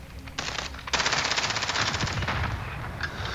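Call of Duty Warzone gunfire comes as loud, rapid automatic bursts with closely packed shots, including one sustained volley, heard up close with no speech.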